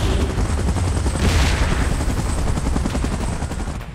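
A helicopter in the battle game PUBG thumps steadily while rapid gunfire crackles over it, dense and loud throughout with no voices.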